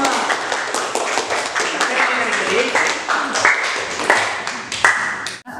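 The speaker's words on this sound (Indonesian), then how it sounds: "Oke, beri tepuk tangan." Students applaud together in a classroom during a lesson on writing poetry, a burst of scattered, overlapping claps mixed with chatter and voices throughout.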